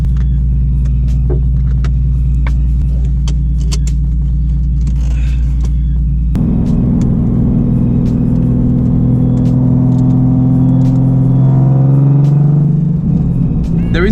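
Loud straight-piped Nissan 370Z/350Z exhaust roars through hard acceleration, a deep droning rumble that rises in pitch, swells near the end and stays close throughout, with faint cabin noise around it.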